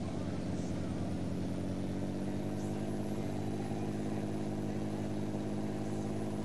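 Scania 141 truck engine in Euro Truck Simulator 2 drones steadily at low volume, a continuous even hum with no breaks, heard quietly throughout.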